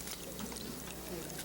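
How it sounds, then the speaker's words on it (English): Finely broken-up tomatoes pour into a pan holding pork chops, a soft, steady liquid splash and trickle lasting the full moment, quiet and close, with a voice murmuring faintly underneath. "These are tomatoes what been broke up real fine. I'm going to pour that down in there."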